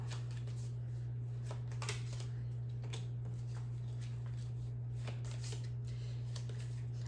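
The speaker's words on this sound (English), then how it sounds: "You're going to shuffle each pile of cards" A pile of Doomlings game cards being shuffled, with quiet rapid riffling clicks over a steady low electrical hum.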